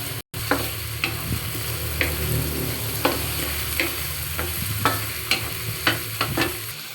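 Shrimp fry in a pan for pinakbet, with a close, steady sizzle and repeated scraping stirs of a spoon against the pan roughly every second, after a brief cut near the start, and no voices.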